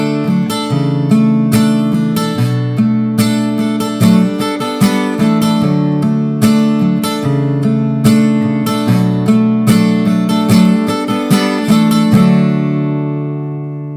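Acoustic guitar playing a chord progression, steady rhythmic strumming with regular accents and chord changes, close and clear, no voices, fading at the end.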